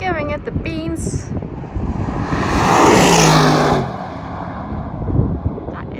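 An Aston Martin Valhalla hypercar accelerates hard on a track, its engine note rising loudly to a peak and fading as it passes, with wind buffeting the microphone and a person talking before it arrives.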